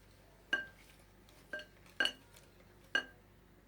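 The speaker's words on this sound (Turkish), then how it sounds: "Karıştıralım. İyice karıştıracağız arkadaşlar. Uzun süre bir, bir karıştıralım." Walnut cake batter stirred in a bowl, heard as four sharp, separate clinks of a spoon against the bowl's side spaced about a second apart, close but faint, with no voices.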